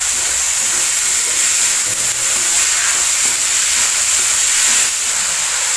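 Sliced onions hitting hot oil with ginger, garlic and chilli, a loud, steady, close hiss of frying that stays even throughout.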